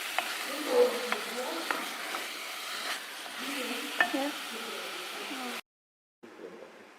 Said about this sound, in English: Cook in pan for about 10 minutes.